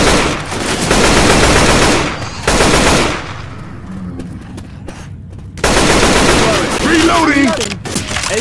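Gunfire in the video game Left 4 Dead 2, loud sustained bursts of automatic weapon fire that stop and start in several long volleys, with brief quieter gaps and players' voices in between.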